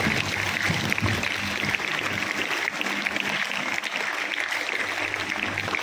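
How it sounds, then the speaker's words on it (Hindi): Loud applause from a school dance program audience greeting a guest choreographer, a dense, sustained clatter of many clapping hands that fills the whole stretch without letting up. "जोरदार ताली से स्वागत करेंगे"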